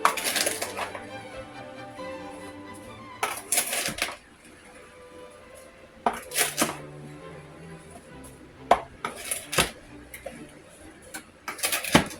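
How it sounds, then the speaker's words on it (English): A metal spoon stirs and clinks through sliced apples coated with cinnamon and sugar for a homemade apple crisp, giving a series of sharp scraping, tapping bursts with quieter gaps between them, close and alone. "I'll mix that all up. I make sure I get cinnamon and sugar on all the apples"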